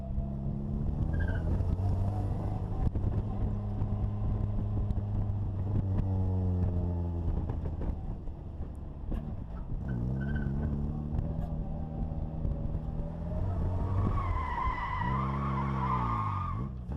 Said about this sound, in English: I'm just trying to figure out if the inside rear wheel is spinning or if the limited slip is